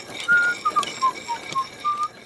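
Someone whistles a short melodic tune, a series of clear sustained notes stepping up and down, moderately loud against faint background noise.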